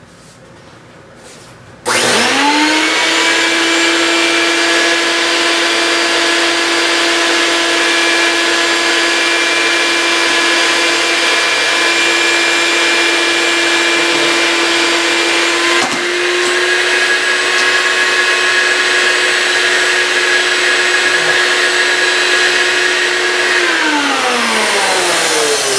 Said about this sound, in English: Okay, vacuum on.